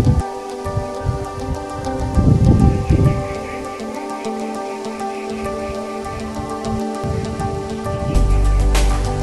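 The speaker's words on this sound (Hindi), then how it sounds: "थोड़ा थोड़ा बूंदे आ रहे हैं बारिश का, बारिश" Light rain falls over a rural village field with cattle grazing nearby, a steady soft patter and hiss with a few louder bursts, heard continuously at moderate level with no talking.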